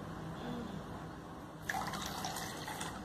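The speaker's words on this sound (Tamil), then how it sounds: "இந்த குட்டி மக்கள் எடுத்து தண்ணி மொண்டு அதை ஃபில் பண்ணணும்" Water being scooped with small cups and poured to fill a container during a children's indoor play activity; a soft, close splashing and pouring begins partway through and continues quietly.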